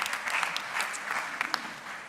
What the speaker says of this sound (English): you're getting a round of applause.